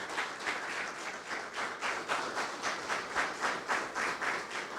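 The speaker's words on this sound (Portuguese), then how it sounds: "Aplauda o Senhor Jesus." Church congregation applauding after a sermon, steady rhythmic clapping in unison with a pulsing beat, moderately quiet and continuous throughout, with no speech over it.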